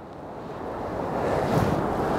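Sea waves break and wash continuously at a rocky fishing spot on Jeju's coast, a loud, rushing surf that swells toward the end with some wind noise.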